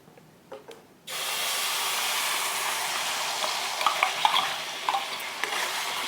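After a few light knocks, loud sizzling bursts in as jackfruit hits hot cow ghee, then a steady frying hiss continues with occasional crackles.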